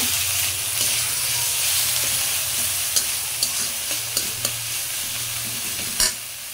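Spice paste (masala) frying in a pan, a steady close sizzle with a few sharp ticks and clinks of a stirring spoon against the pan, no talking.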